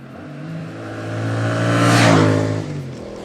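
A Yamaha XSR 700 Legacy motorcycle engine hums steadily while riding, rising in pitch and loudness to a peak before easing off again, close and alone.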